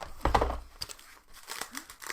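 Packaging around a gold box crinkles and tears close up in a few quick bursts, with soft rustling between.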